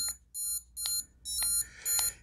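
Piezo speaker on an Atari Centipede micro arcade beeping in a regular pattern of four or five short, shrill electronic tones, evenly spaced and moderately close, with no voices.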